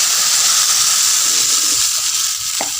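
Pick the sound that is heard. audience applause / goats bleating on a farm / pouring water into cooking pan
pouring water into cooking pan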